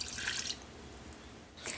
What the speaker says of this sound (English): we will add the warm water.